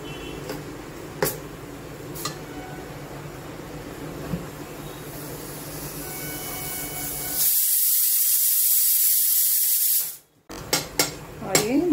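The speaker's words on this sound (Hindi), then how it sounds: "तो अभी हमें इसे मसाले को आंच तेज करके अच्छे से भूनना है।" Spices frying hard over high heat for mutton paya, a steady loud sizzle that swells after a quieter stretch with scattered clicks, then cuts out briefly before a few light knocks.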